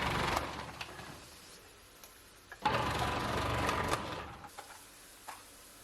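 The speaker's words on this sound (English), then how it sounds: "Then I used food processor to slice them thinly." Food processor slicing sweet red kapya peppers thinly: a fairly quiet, steady mechanical whir with bursts of chopping rattle, louder and busier in the middle stretch, no speech.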